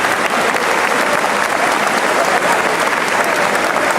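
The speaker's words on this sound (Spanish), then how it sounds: "Regalen un buen aplauso al Señor." A church congregation at a charismatic prayer group meeting bursts into loud, sustained applause, dense clapping filling the room steadily from start to finish.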